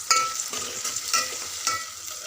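Onions and curry leaves fry in a pan for ivy gourd curry, stirred in several distinct scraping strokes over a steady close sizzle. No voices.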